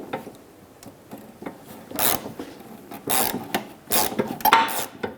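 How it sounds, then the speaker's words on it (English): A ratchet loosens the hose clamp bolt on the fuel tank of a 1997–2001 Lexus ES300, giving close, scraping mechanical clicks in uneven bursts that grow louder toward the end, with no talking. "Let's grab a ratchet and see if we can take that out."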